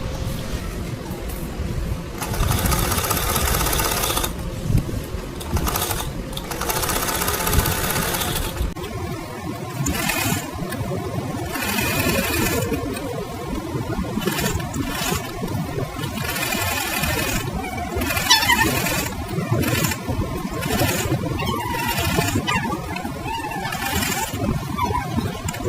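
A sewing machine stitching around the edges of a carry bag, its needle whirring in long fast runs with brief pauses between them, close and steady with no talking.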